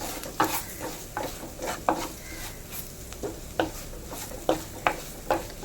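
Spice powder and curry leaves stirred in hot oil for a Kerala fenugreek fish curry, with a spoon scraping the pan in a steady rhythm of sharp strokes over a low sizzle, close and clear with no talk.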